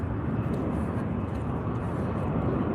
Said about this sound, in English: There's gonna be another airplane about to take off.